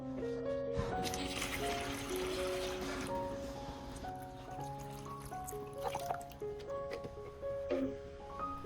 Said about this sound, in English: pour in about 3 liters of boiled and cooled water